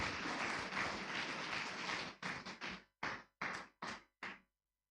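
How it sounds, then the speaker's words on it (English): Dense applause from a large lecture audience for about two seconds, then tapering into a handful of separate, loud claps bursts before fading to silence. "Please give applause."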